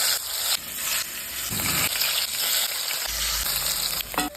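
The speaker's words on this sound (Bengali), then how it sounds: "মাছগুলোই নুন হলুদ মাখিয়ে কড়াইতে তেল দিয়ে মাছগুলো ভেজে নেব" Snakehead fish coated in salt and turmeric frying in hot oil in a wok, a loud continuous crackling sizzle with occasional stirring and shifting sounds.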